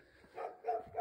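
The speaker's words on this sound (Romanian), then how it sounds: "latră un câine aici" A dog barking near a small cabin on a mountain, two or three short, faint barks at a distance in quiet surroundings.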